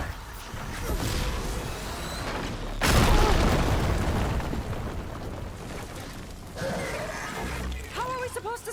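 A hostile machine in Horizon Forbidden West builds up and fires, with a booming blast and rumbling bursts amid mechanical whirs as characters talk over the action.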